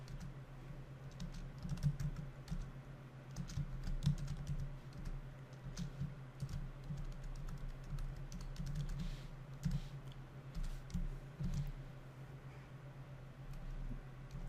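Code being typed on a computer keyboard: a rapid, irregular run of close, soft key clicks over a steady low hum.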